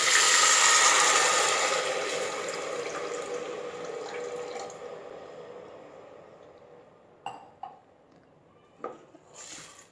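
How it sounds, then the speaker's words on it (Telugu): Two and a half cups of water pour steadily into a pressure cooker, loud at first and tapering off after several seconds, followed by a few sharp clicks and knocks. "అదే కప్పుతోటి రెండు కప్పులున్నర వాటర్ పోసుకోవాలి"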